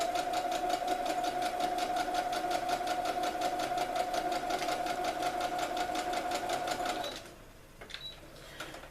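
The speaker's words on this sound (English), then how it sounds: "Now we're going to do a straight seam for 1/4 inch." A sewing machine stitches a straight quarter-inch seam in a steady, fast, even whir that runs unbroken for about seven seconds, then stops and leaves only faint handling noises.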